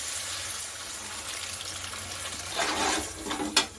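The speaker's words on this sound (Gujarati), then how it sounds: "હવે જે આપણે કોબીનું પાણી કાઢ્યું હતું તે આપણે એડ કરી દઈશું." Cabbage water is poured into a pan of Manchurian, a soft hiss rising into a brief gushing splash near the end, close and moderately loud with no talk.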